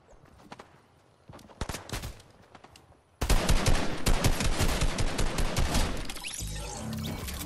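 Fortnite game gunfire: scattered single shots at first, then a loud burst of rapid automatic fire that continues in dense volleys before easing.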